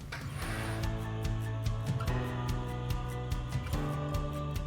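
A sewing machine stitches a basting seam across woven fabric pieces for a shirt dress, running steadily at close range with a rhythmic mechanical hum and repeated needle clatter, briefly slowing and restarting along the way.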